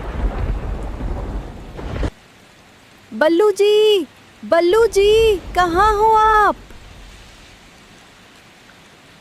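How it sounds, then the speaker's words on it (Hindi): Heavy rain and storm noise roar loudly in a Hindi jungle cartoon, then drop to a softer wash as a cartoon character calls out over the lingering storm. "तूफान और तेज हो रहा है।"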